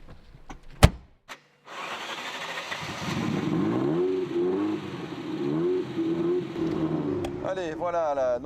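A Ferrari 288 GTO supercar pulls away and accelerates, its engine note rising and falling through the revs in a steady loud drone after a couple of sharp clicks and a brief pause.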